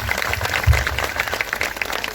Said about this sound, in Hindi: एक बार सिस्टर के लिए ताली हो जाएंगे।